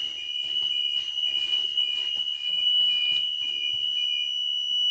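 A shrill bus rear-door warning buzzer drones without pause at one constant pitch, accompanied by faint clunks and shuffling noises.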